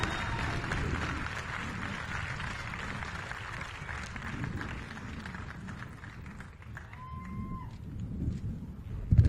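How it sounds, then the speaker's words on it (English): Outdoor crowd applauding at the grand opening of The Fields at RFK Campus, a broad, somewhat distant wash of clapping and cheering, with a brief whistle-like tone midway and a louder burst near the end. "Please give a big round of applause for Congresswoman Eleanor Holmes Norton."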